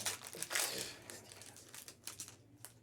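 Pokémon TCG Mega Evolution item packaging being unwrapped, plastic crinkling and tearing close by in bursts that fade toward the end, with faint voices at times.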